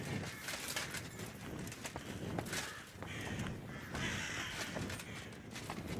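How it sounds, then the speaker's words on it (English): Crows cawing in the medieval world of the video game Kingdom Come: Deliverance II, several harsh caws scattered over a busy, faint ambient background with occasional hoof-like clops. "Oh, I can hear the birds."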